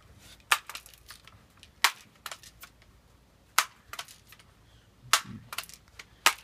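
A BB gun is fired repeatedly, with several sharp, loud cracks spaced irregularly over a few seconds and nothing else in between except a faint background hiss.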